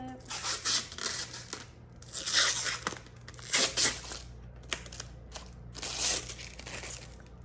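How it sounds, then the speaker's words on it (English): Plastic wrapping is peeled off a Dollar Tree craft piece in uneven bursts of crinkling and tearing, close and fairly loud, with quiet gaps between pulls. "Right now I'm just removing the plastic to get this ready to put the stickers on."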